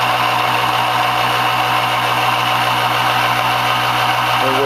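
A small motor runs steadily at about 3,660 RPM, giving a loud, constant buzzing whine with an even hum and no change in pitch or level throughout.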